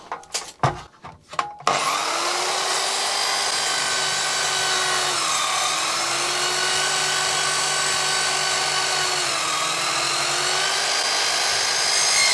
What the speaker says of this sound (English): Let's give it a quick power tool test. 1020 watt circular saw.